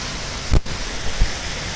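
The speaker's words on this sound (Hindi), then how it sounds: "ये देखो बारिश कितनी तेज है" Heavy rain pours over flooded village streets in Hisar, Haryana, a steady broadband wash with a couple of brief low thumps breaking through.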